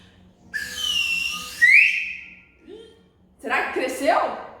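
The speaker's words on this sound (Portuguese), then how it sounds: "eu vou usar esse apito que é para ver se a minha massa cresce" A toy whistle blown as a playful prop in a home kitchen while bread dough rises, giving two sustained shrill tones, the second rising sharply, then a pause and a quieter burst of speech-like sound, with a steady low hum underneath.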